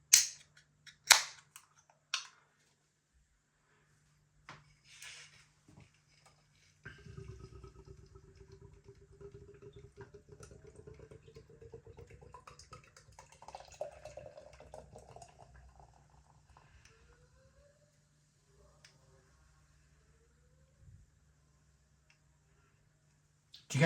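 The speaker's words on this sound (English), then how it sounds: "let's start pouring some beer" Lidl lager beer poured steadily into a glass for about ten seconds, a close, quiet gurgling splash whose pitch rises as the glass fills, framed by a few sharp clicks before and after.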